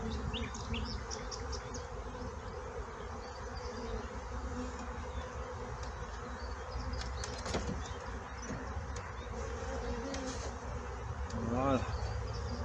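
Honeybees buzzing in an open beehive during queen rearing, a dense, steady hum close by throughout, rising slightly louder toward the end, with occasional faint handling noises.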